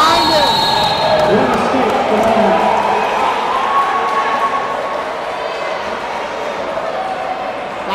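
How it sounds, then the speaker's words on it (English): A wrestling crowd at a North Idaho College match roars and cheers loudly and steadily for a wrestler escaping from his back, a dense sustained uproar filling the gym with an announcer talking over it. "a huge uproar from the crowd for Jaron Comack"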